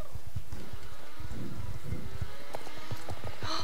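Horse hooves clip-clopping as the horse walks over ground in the video game Star Stable Online, a steady rhythm of soft close hoofbeats.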